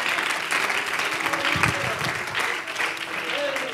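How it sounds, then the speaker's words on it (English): A church congregation at a Sunday service clapping in praise, a dense, continuous wash of many hands with voices and murmuring mixed in, filling the room at an even level for the short stretch. "Give Him another hand clap of praise."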